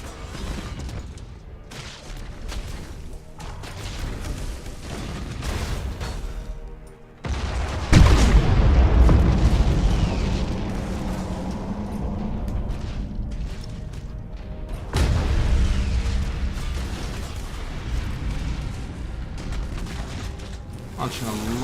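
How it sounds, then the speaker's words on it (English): Starship weapon batteries firing in Battlefleet Gothic Armada 2, with a heavy booming salvo around the middle followed by rumbling impacts and a second surge of blasts, mixed with game effects. "Intensify fire. I want that abomination destroyed. Batteries at maximum."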